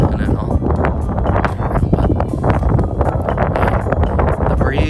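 Steady wind buffeting a microphone while riding a bike outdoors, a continuous broadband roar and rumble filling the whole stretch at close range, with light gusty fluctuations.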